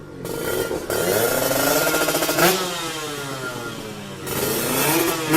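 Racing motorcycle engines at an underground drag race, loud buzzing revs that climb and hold, with a second engine droning underneath and a brief gap before another burst of revving.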